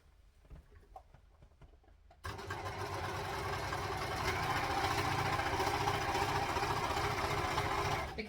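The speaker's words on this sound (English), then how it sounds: "So we're going to overlock this." An overlocker sewing machine stitches along a fabric edge after a quiet start of faint clicks, then a loud, fast, steady mechanical whirr with rapid rhythmic chatter running continuously to the end.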